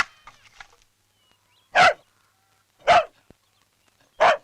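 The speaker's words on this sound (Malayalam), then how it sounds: "പട്ടി ഇത്ര കുരയ്ക്കത്തില്ലല്ലോ" A dog barks three times at night, each bark single and loud with long silent gaps between, after a few faint rustles at the start.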